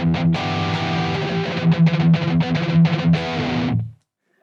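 Electric guitar through a Blackstar HT Venue MkIII amp, played completely dry with no reverb or room sound: a distorted chordal riff with rhythmic accented strums, loud and close, stopping dead with an abrupt cutoff into silence.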